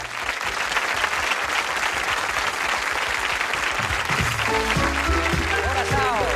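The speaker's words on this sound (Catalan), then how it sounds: "aquí tenim un aplaudiment per Núria Feliu" A studio audience on a 1997 TV3 variety show applauds in loud, sustained clapping, with a voice talking over it toward the end.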